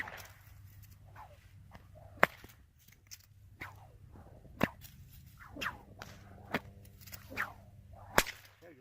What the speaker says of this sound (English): we're just cracking some whips